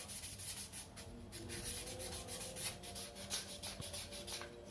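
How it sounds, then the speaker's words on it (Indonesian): Rhythmic rubbing of 600-grit sandpaper across a gas stove burner, quick back-and-forth strokes close to the microphone, faint and steady with no voices. "Ini nomor 600 saja cukup. Kita amplas bagian mawarnya,"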